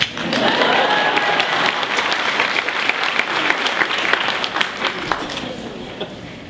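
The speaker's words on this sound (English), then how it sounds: "Okay, you can clap." Steady, dense applause from an audience at a graduation-style name reading, loud and sustained before slowly thinning toward the end, with a voice faintly audible under it.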